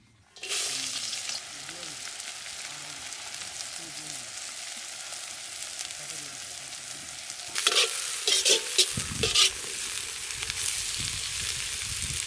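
Onions fry in oil in a kadai with a constant close sizzle. Louder bursts of stirring and scraping come near the end.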